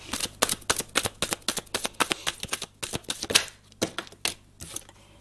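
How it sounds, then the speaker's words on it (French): Three small cards are handled during a card reading, giving a quick run of crisp flicking and tapping clicks, close up and fairly loud, with the clicks thinning toward the end and no speech. "3 petites cartes de synthèse."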